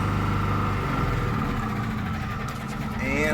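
Generator fitted with an aftermarket exhaust extension idling quietly, a steady low purr that holds evenly for a few seconds, with a faint rise near the end.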